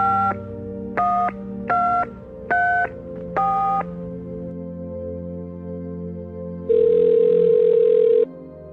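A telephone is dialed for a call: five crisp keypad tones in an even rhythm, then a pause and a longer steady beep, all loud and close with no talking.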